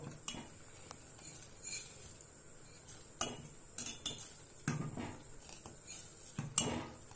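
Vermicelli being stirred into sago milk payasam in a pot, with light clinks and scrapes of a spoon against the metal at an irregular pace under a soft, quiet background, with no voices.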